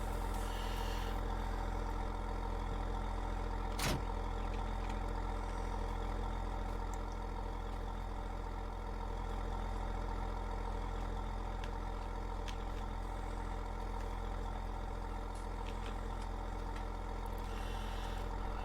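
A farm tractor engine idles steadily and unattended after being detached from a baler, a continuous low, even drone with one sharp click partway through and no talking.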